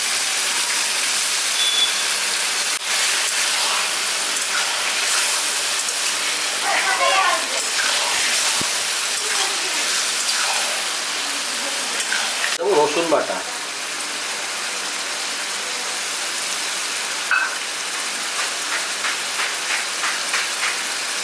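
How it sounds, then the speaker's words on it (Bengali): Goat chusta goes into softened onions frying in a pan, setting off a loud, steady rain-like sizzle that swells sharply midway, while someone talks over the cooking. "পেঁয়াজটা হালকা নরম হয়ে গেছে আমি এবার চুস্তাটা দিয়ে দেবো"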